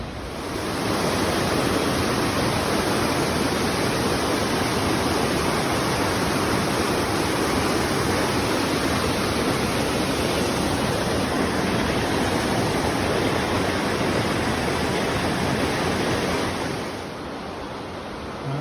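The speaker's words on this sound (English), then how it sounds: "can hear the Whitewater Falls in the background." Whitewater Falls and the Whitewater River on a Carolina foothills trail give a loud, continuous roaring rush of falling water that holds steady for most of the stretch, then eases slightly near the end; no voices.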